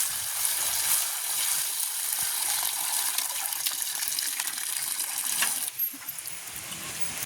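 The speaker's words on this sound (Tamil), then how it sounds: "தண்ணி ஊற்றி கழுவும்" Water is poured to wash vegetables by a village well, gushing and splashing steadily in a continuous hiss, with a brief change in flow near the end, and nobody speaking.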